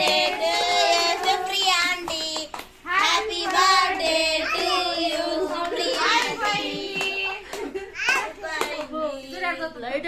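Family members clap for a birthday cake cutting at home, scattered hand claps mixed with children's chatter and excited voices close by.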